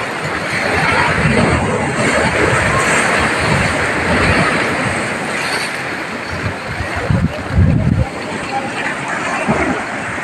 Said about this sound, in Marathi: आता ही जी लाट येईल ना त्यातलं पाणी तुझ्या माथ्यापर्यंत